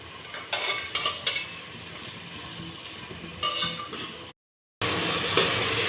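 Onions and tomatoes roasting in a pan for a dhaba-style baingan bharta, with scraping stir strokes and clinks over a steady sizzle, a brief dropout near the end before the frying resumes louder.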